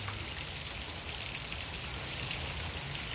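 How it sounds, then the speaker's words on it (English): Steady rain patters on cherry tomato plants in a front yard garden, a dense, even hiss of drops close by with no voices. "Rain on the cherry tomatoes."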